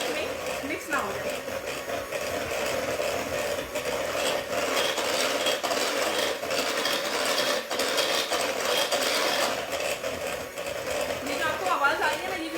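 An electric hand mixer beats vanilla cake batter, a steady continuous whirring drone with a slight rattle running through the whole stretch, with someone speaking over it in places.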